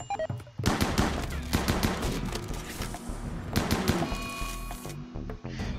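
Rapid gunfire bursts in the colony-building game Rimworld, dense overlapping shots in two main volleys with scattered single cracks in between, loud and close against a low background hum.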